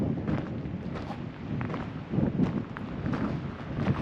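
Gusty wind at a campsite near the Colorado River, buffeting the microphone in a broad, uneven rush with faint scattered knocks, fairly close and steady for several seconds.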